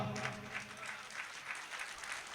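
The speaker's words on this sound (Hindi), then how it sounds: "तालियां कमजोर है" Audience at an Urdu mushaira poetry event in an auditorium applauds in a short, moderately faint burst of clapping that pulses unevenly, with no voice over it.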